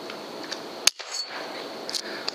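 A single sharp gunshot fired at a rat, a brief crack followed by quieter outdoor background with a couple of small clicks.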